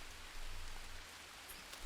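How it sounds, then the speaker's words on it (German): Steady broadband rain hiss in the survival game Green Hell, a continuous close wash of falling drops without talk. "Es regnet."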